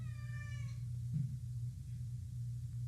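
A cat lets out a single drawn-out meow at the start, clear and fairly close, then falls silent over a steady low hum.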